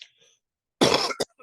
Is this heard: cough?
yes